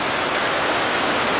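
A river in spate runs close by on a day trip near Pune, its water rushing as a steady, loud broadband roar with no pauses or voices over it.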